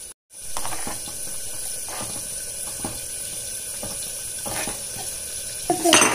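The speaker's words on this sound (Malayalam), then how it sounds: "ഇനി നമുക്ക് ഇളക്കിയിട്ട് ഒരു പ്ലേറ്റിലോട്ട് മാറ്റാം." Bitter gourd curry is stirred in a pan, with a low steady sizzle and regularly spaced scraping strokes of a spoon against the metal, ending in a louder clatter.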